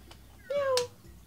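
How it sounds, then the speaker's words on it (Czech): A domestic cat gives a single short meow, close and clear, against a faint background. "Jiu, to je tak hrozně hezký, to je kočka naše"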